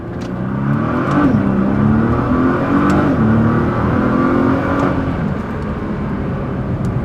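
A Nissan R35 GTR with all-wheel drive accelerates hard, its engine droning loudly from inside the cabin as the pitch climbs, dips at a gear change and climbs again over road and wind roar.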